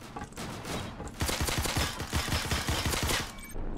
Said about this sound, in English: Why are you fucking shooting at me?